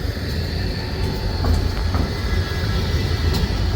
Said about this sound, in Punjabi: ਆ ਇੱਕ ਹੋਰ ਟ੍ਰੇਨ ਆ ਗਈ